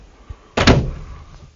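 A pocket door in a 2023 Renegade Valencia 38BB motorcoach slides shut with one solid, close thud followed by a short rattling decay, preceded by a faint tap.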